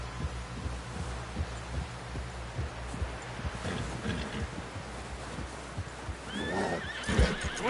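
Horse whinnying and snorting in Red Dead Redemption 2, with hoof clops and a low rumbling background, the neigh rising clearly near the end amid busy game ambience.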